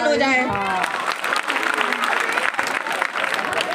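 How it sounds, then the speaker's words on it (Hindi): Loud, steady applause from an event audience, a dense wash of clapping that fills the whole stretch, briefly overlapping a voice at the very start. "जोरदार तालियां एक बार फिर से।"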